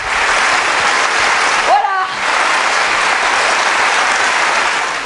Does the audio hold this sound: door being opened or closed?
no